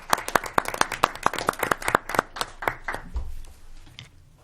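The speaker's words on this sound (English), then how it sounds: "that deserves an applause" A small school committee meeting gives a short round of applause, with sharp, distinct hand claps for about three seconds before they thin out and fade.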